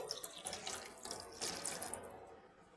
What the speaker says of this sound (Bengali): আর এবার আমি একটু জল দিয়ে দিচ্ছি